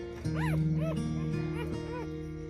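A newborn Rottweiler puppy squeals and whimpers in short rising yips while nursing from its mother, several close, high cries over a steady low hum.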